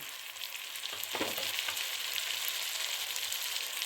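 Ground spices, turmeric, chilli and coriander, with salt and green chillies, frying and being stirred for egg curry: a dense, steady close sizzle with a brief louder scrape of stirring early on.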